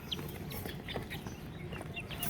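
Young chicks just given a vaccine peep and cheep softly, several overlapping calls in a short stretch over steady background noise.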